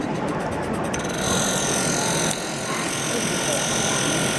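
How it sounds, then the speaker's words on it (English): SugarVeil dispenser's compressor at a Cake International demonstration runs as a steady, loud mechanical buzz throughout, with a brief rhythmic pulsing at the start and people talking over it. "you simply turn on the compressor."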